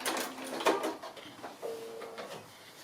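A sewing machine runs a short back stitch on a small fabric Christmas stocking, giving quiet, brief mechanical whirring and clicking bursts up close, with no one talking.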